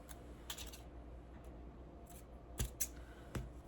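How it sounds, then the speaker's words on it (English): Scissors snipping through paper in a few short, crisp cuts, with sharper snips near the end, close and fairly quiet over a low steady background. "I'm totally cutting my paper"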